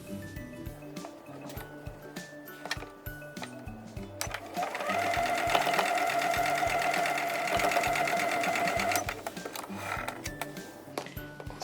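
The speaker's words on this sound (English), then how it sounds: "over at the sewing machine I'm going to flip it over and sew on this side" Sewing machine stitching a quilt block unit, a close, steady mechanical whir for several seconds, flanked by quieter clicks and fabric handling with faint background speech.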